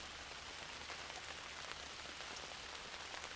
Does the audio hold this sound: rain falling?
yes